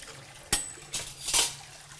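Tap water runs into a sink while a pan is rinsed, with a few short, faint splashing bursts over a quiet trickle.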